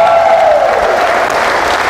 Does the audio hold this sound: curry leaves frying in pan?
no